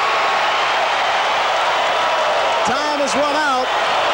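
A dense, steady roar from a soccer stadium crowd at the end of the 1982 American Soccer League Championship game between the Detroit Express and OK City Slickers fills the whole stretch, while an announcer talks over it.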